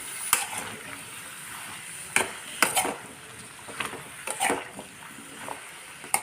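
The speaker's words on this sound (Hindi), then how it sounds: "हमने अपना सारा कद्दू इसमें डाल लिया है और इसे हम अच्छे से चला लेंगे।" Pumpkin pieces stirred in hot oil for a halwai-style kaddu sabzi, a spoon clinking and scraping the pan in scattered bursts over a soft background sizzle, near and fairly quiet, with no talk.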